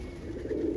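A roller pigeon coos once in a short, soft, low murmur, close by and with no talk over it.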